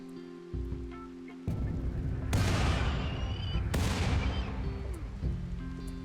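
Turrets firing in the video game RimWorld, a dense roar of gunfire and booming blasts that swells in two heavy bursts over a low musical drone, loud and continuous with no talk.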